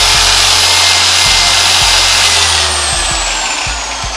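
A 15 mm dual action car polisher runs continuously at high speed, giving off a loud, steady motor whine with a low hum and a few soft clicks and knocks, slightly fading toward the end.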